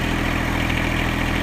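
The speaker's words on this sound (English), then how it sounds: "I'll put it in four-wheel drive," A four-wheel-drive vehicle's engine runs steadily under throttle while backing up, a loud continuous low drone with a faint rhythmic throb, no voices.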